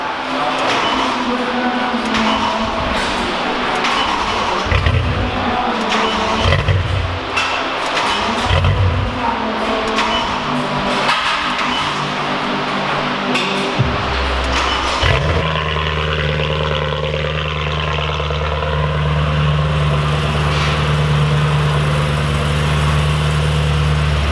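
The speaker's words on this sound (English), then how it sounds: "That's the first startup of the car with the new rod bearings and all the new fluid." A BMW E90 M3 starts for the first time after new rod bearings and fresh fluids. Roughly fifteen seconds of muffled, uneven cranking and rumbling give way to a steady, loud idle drone that holds to the end.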